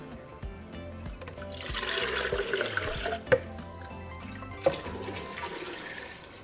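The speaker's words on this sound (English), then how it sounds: "Into the broth, I'm also going to add more water." Water pours and splashes steadily into a pot of shrimp soup broth for several seconds, with a couple of sharp clinks as the stream continues.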